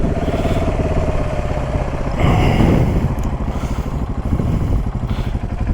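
A 150 cc supermoto motorcycle engine runs steadily close by, its low pulsing note swelling into a brief rev partway through before settling back to a throbbing idle.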